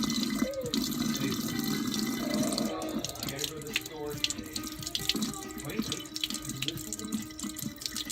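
Water runs steadily from a tap, a continuous hiss and splash that turns choppier and more broken toward the end, nearby.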